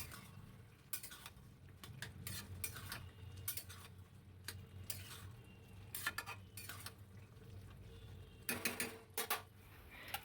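Bitter gourd pieces being stirred in a pan, a spatula scraping and clinking against the metal in irregular bursts, with quieter gaps between the strokes and a low steady background hum.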